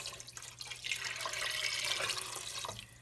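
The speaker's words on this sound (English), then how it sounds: "So I'm just going to make up the difference with some water." Tap water runs steadily into a soup pot for quinoa chicken soup, a close, bright splashing rush that holds for about three seconds.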